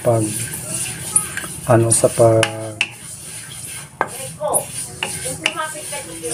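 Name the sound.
sesame seeds being toasted and stirred in a pan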